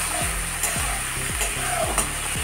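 Spices and two tomatoes fry in a pan for a fish dish with raw banana fritters. Steady sizzling runs throughout, and a spoon scrapes through the mixture in regular strokes roughly every half second.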